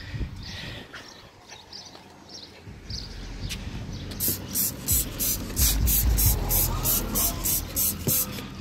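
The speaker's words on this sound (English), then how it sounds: "right before I spray, is I just put on one more coat over everything" Cleaner is sprayed over the engine bay of a C6 Corvette, with a run of quick, rhythmic trigger-sprayer bursts in the second half following quieter handling noises, close and fairly loud, with no talking.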